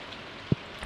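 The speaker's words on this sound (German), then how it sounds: "Die Dunkelheit, der Regen, ich bin ganz aufgeregt." Steady hiss of rain falls in the Stardew Valley game, with one short low thump partway through and no voices.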